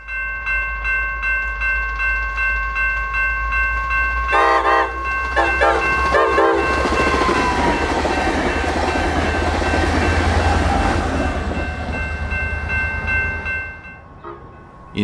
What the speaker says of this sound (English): At Ogden Street in Elk River, a morning inbound Northstar commuter train has just begun its journey to Minneapolis